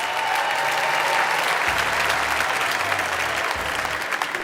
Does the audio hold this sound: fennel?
no